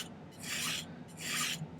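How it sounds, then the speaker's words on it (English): A metal file rasps across the seam of a silver bezel in two close, scratchy strokes with a brief pause between them. The sound is fairly loud and there is no talk. "So let's do a little bit of filing."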